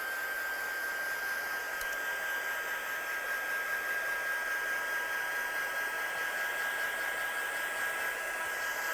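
A heat gun drying coloured ink on a craft project blows a steady, even whoosh of hot air with a faint high whine, close and continuous without any talk.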